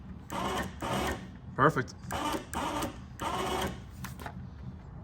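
An OPENROAD 3500 lb ATV winch motor running in repeated bursts of whirring, about five pulses with short pauses between, close by, with a brief spoken word in the middle.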